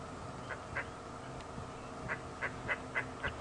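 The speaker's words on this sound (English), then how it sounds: "That's the lilac-breasted roller that we can hear calling." A lilac-breasted roller on a safari drive at Djuma Game Reserve gives harsh, grating calls: a couple of short notes, a pause, then a quick run of five rasping calls over a low background hum.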